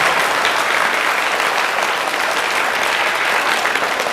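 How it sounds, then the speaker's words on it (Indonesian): Sustained applause from an audience at a Bugis-language religious lecture, steady dense clapping that fills the whole stretch without pause. "Tepuk tangan untuk beliau."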